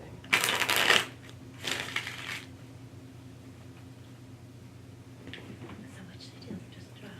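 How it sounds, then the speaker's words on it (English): Tarot cards are riffled in two short, crisp shuffling bursts close by, then soft handling noises follow over a quiet room tone. "Yeah, let's just each go around and shuffle."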